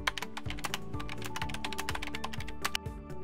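Fast, steady keystrokes on a computer keyboard, close and clear, with a continuous run of crisp clicks and no talking.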